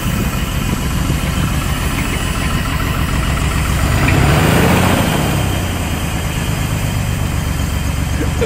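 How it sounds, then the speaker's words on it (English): Chevy S10 pickup engine running rough and shaking, a loud, steady close-up idle with a knocking, vibrating drone and a brief rev swell midway. "The way the engine shakes."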